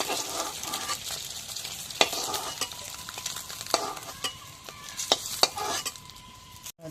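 An egg frying in hot oil gives a steady sizzle, with several sharp utensil clicks and scrapes against the pan and no talking.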